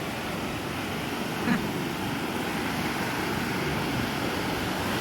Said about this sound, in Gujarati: તમે જોઈ શકો છો મસ્ત વેવ આવે છે, પાણીનો અવાજ છે